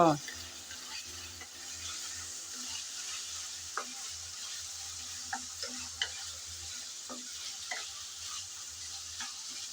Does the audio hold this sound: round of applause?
no